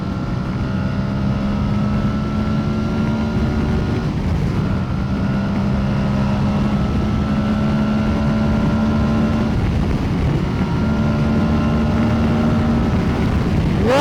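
An Aprilia Tuono 660 motorcycle engine drones steadily at speed, with rushing wind noise and brief dips in pitch as gears change.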